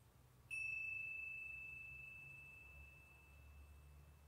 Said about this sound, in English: That little bell marks the end of our short chair yoga practice today.